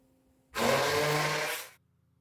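A blender purées cheese filling for a pie in one continuous whirring burst of about a second, loud and close, starting and stopping abruptly with no talk.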